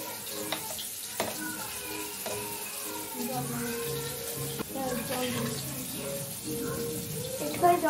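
Water goes into a sizzling pan of hilsa fish cooking in mustard, with steady frying hiss and stirring clatter close by, and a voice speaks over it.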